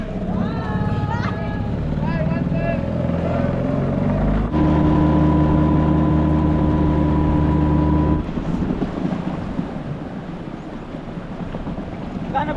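A boat's outboard engine drones steadily on a fast-flowing river in Quirino Province, loud and continuous with wind buffeting the microphone, and a steady tonal hum runs through the middle of the clip.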